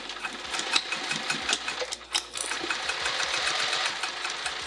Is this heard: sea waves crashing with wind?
no